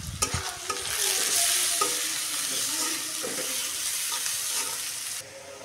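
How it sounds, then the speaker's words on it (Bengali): Onions fry in a pan for a broiler chicken curry, giving a steady close sizzle with stirring scrapes that sounds continuously before cutting off near the end. "পেঁয়াজ হালকা ভাজা হয়ে আসছে"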